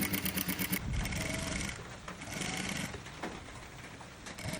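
A sewing machine runs continuously while stitching the hem of an umbrella-cut skirt, a dense, steady mechanical chatter with rapid needle ticking, up close and with no talk.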